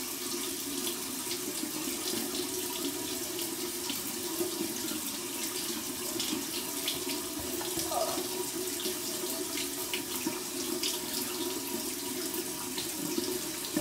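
Cold tap water runs steadily over an Osmo alum block, a continuous hiss of flowing water at close range with no talk over it.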